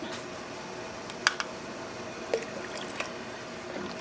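Water dripping and trickling as it is removed from a yarn dye bath, a few sharp, distinct drops and small splashes over a quiet background, close by.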